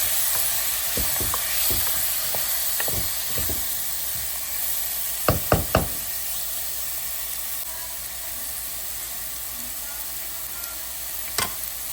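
Coconut powder, coriander powder and garam masala are stirred into a hot pan for Andhra-style kidney bean curry: a steady sizzle and hiss with scattered spoon knocks and a quick cluster of sharp clinks midway, with no talk.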